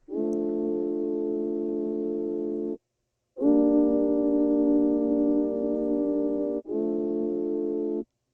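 Sampled synth chords swell in three sustained blocks, each held for a few seconds with short breaks between, a thick buzzy tone heard alone.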